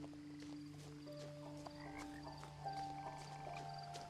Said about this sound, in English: Nope, I can still hear the frog.